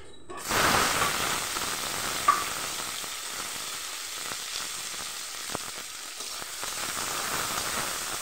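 Onions frying in a pan for a home-cooked chicken curry, a sudden loud sizzle that settles into a steady hiss with occasional stirring clicks and scrapes, close by, with no talking.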